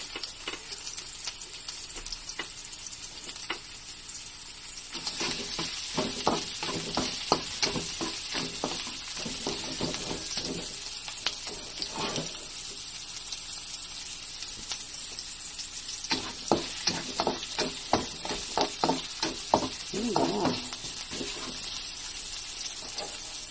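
Steady sizzling of ginger sautéing in a hot pan with bursts of stirring and scraping, a continuous crackle that swells and fades, no voices.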